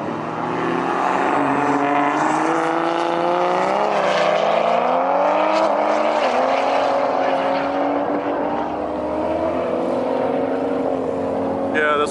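A Toyota Supra drag racing down the strip roars with a loud, sustained engine note whose pitch climbs through gear changes, heard close and continuous across the run.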